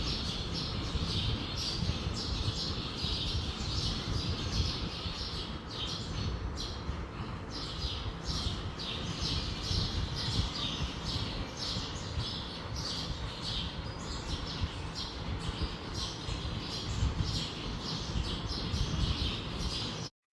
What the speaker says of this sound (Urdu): بس آپ نے چڑیوں کی چہچہاٹ سنی ہے نا، یہ مغرب کے ٹائم پہ ایسے ہی ہوتا ہے